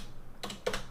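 Keys tapped on a computer keyboard, two quick clustered bursts of clicks close up, with a quiet background and no talking.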